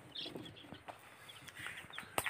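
Hybrid baladi chickens cluck softly in a farm pen, faint scattered calls and rustling at close range.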